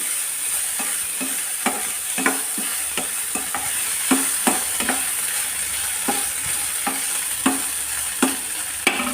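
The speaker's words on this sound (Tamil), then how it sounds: "இதுக்கு தேவையான அளவுக்கு கல் உப்பும் போட்டு இதோட வறுத்துருவோம்" Coriander being roasted with rock salt in a pan, a dry steady hiss broken by regular scraping strokes of a spatula, roughly one per second, with no voices.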